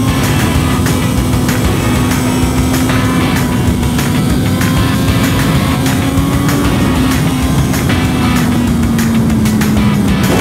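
A 675 cc sport motorcycle revs hard on a race circuit, its engine droning loud and close with a steady high-rpm whine that slowly shifts pitch, with no talk.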